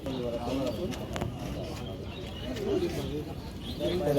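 Pigeons coo and flutter among a crowd at a busy pigeon market in West Bengal, their soft calls mixed under steady nearby chatter from buyers and sellers.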